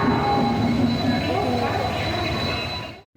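A local train at a station near Howrah rumbles loudly and steadily, with a constant roar of wheels and carriages and crowd chatter mixed in, fading out abruptly at the end.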